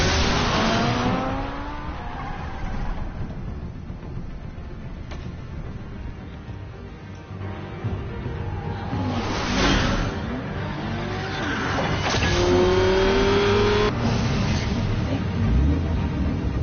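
Car engine revving hard in Batman: The Telltale Series, rising and falling in loud surges with tire squeals and skids over a busy chase-scene din, heard continuously throughout.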